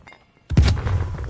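A flashbang grenade goes off in a video game as one sharp, close bang with a brief booming tail, after a near-silent moment.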